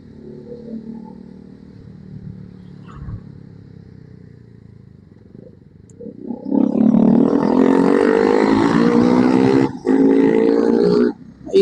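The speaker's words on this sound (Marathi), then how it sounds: "काय फाटलेलं सायलेन्सर लावलाय रे तू" A motorcycle with a broken silencer passes close by, a low idle rumble swelling into a loud, raw, rasping exhaust roar that holds steady with a brief dip before continuing.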